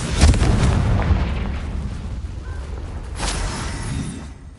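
Confringo spell explosions in the video game Hogwarts Legacy make heavy booming blasts, one near the start and another about three seconds in, each trailing into a rumbling decay.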